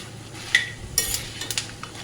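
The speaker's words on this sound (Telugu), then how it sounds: "వేసి బాగా ఫ్రై చేసుకోవాలి" Quiet sizzling in a pan with several light scrapes and clinks as dried chillies are stirred and tossed in hot oil.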